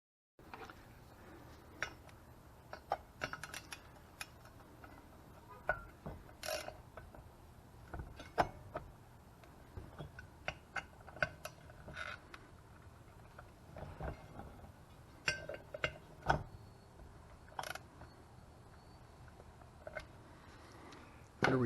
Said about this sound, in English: It's a matter of loosening the compression tool.